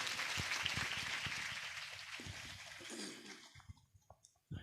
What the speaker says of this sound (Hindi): पुनः सभी इनके लिए जोरदार तालियों के साथ स्वागत सम्मान करें।